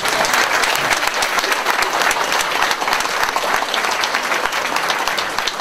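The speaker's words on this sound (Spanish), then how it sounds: "y su señora esposa Lilibet Torres de Egipto, para quienes pido les brindemos un fuerte, fuertísimo aplauso, por favor." A large audience claps loudly and steadily through a calenda celebration in Jaltepec de Candayoc, the dense applause unbroken from start to finish with no voices standing out.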